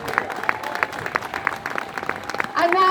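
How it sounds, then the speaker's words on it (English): An audience at a political rally applauds with scattered, rhythmic claps at moderate volume before a voice begins speaking over them. "please keep the clapping going"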